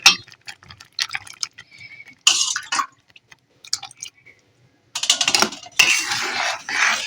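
Sago boiling in water in a pot while a spoon stirs constantly, scraping and clinking against the metal in uneven bursts, with short pauses and a couple of longer, louder scraping stretches.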